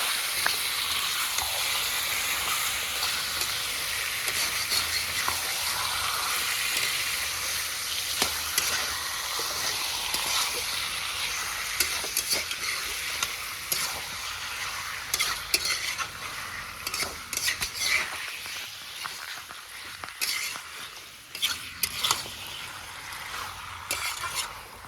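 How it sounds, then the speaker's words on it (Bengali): Chicken pieces are stir-fried for a potato chicken curry, with a continuous hot sizzle and repeated scraping and clinking of a spatula against the pan, close and steady, stirring getting more intermittent toward the end. "মাংসটা ভালো করে কষিয়ে দেবো।"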